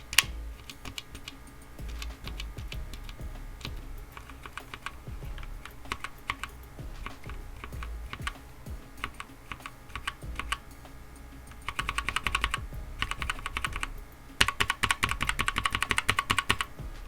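Typing on a mechanical keyboard fitted with Outemu black linear switches: a steady run of close, crisp keystroke clatter for the whole stretch, growing denser and brighter in bursts near the end, with no talking.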